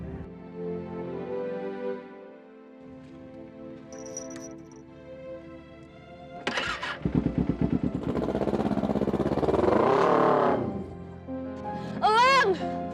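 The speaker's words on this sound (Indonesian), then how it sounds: "Dia naik motor." A motorcycle engine starts and revs, rising to a loud, rough drone as the bike rides off. Speech is heard over it.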